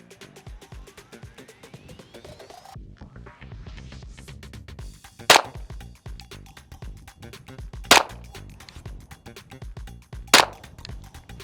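A Noveske Glock-style handgun is fired at a target on a shooting range: three sharp, loud shots spaced a few seconds apart over steady background noise, with no talking.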